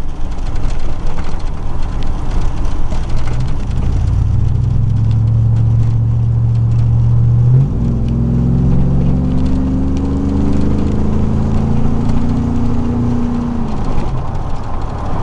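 A 2000 Chevrolet Silverado 4.8 V8 with a knockoff MagnaFlow dual exhaust rumbles loudly and deep, rising in pitch as it revs, then settling into a droning, drum-like exhaust tone.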